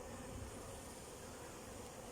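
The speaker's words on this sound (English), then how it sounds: "Those are nursing bees, very happy nursing bees." Honeybees drone in a steady, low hum from an opened hive full of nursing bees tending larvae, a continuous buzzing close by with no talk over it.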